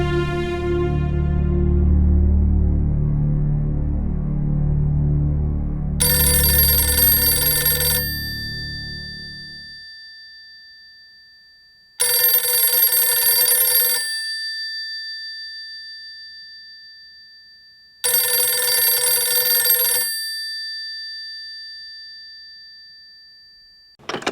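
A telephone rings three times in long, evenly spaced electronic bursts with silence between, following a low rumbling hum at the start.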